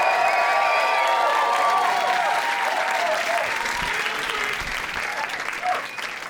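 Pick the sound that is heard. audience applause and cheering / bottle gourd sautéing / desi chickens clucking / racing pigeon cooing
audience applause and cheering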